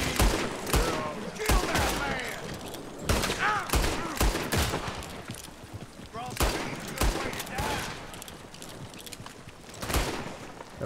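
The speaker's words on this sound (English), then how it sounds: "Can I shoot the gun?" Rapid bursts of gunfire in Red Dead Redemption 2, a string of loud repeated shots with fast overlapping cracks and echoing tails, with voices talking amid the shooting.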